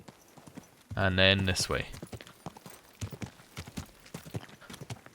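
Horse hooves clip-clop in Kingdom Come: Deliverance II, a string of sharp, close hoofbeats under a voice speaking, with a brief neigh-like tonal burst near the start.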